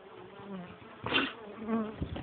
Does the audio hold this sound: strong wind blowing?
no